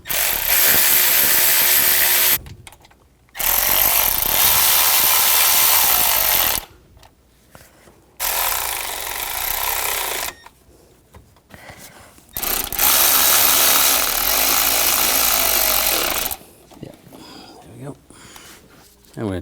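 A power ratchet tightens the alternator bolts on a 2004-2009 Audi A4 Quattro 2.0L, sounding as four loud, buzzing bursts of a few seconds each, separated by short quiet pauses.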